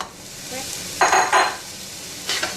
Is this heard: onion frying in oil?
yes